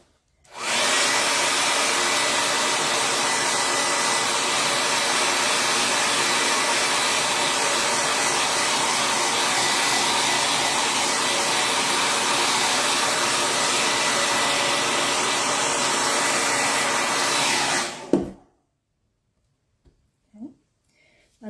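A heat tool blows hot air to dry chalk paste through a stencil, a loud steady roar like a hair dryer that runs continuously for about eighteen seconds, then cuts off into near silence.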